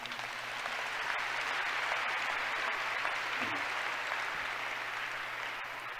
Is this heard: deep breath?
no